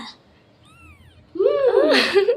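A faint, thin kitten meow followed by a louder, longer mewing cry, close by.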